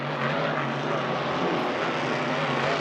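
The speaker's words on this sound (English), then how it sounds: "This is one hell of a hydroplane, the big Whitenoise machine as he wheels around the bridge end." Whitenoise hydroplane racing boat powered by a 27-litre Rolls-Royce Merlin engine, wheeling around a bridge end at an E C Griffith Cup practice; a steady, loud, broad engine roar drones continuously without a break.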